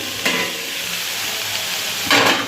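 Hilsa fish dish in a pan, a loud continuous sizzle with two bursts of hissing as it is stirred, close by and without speech.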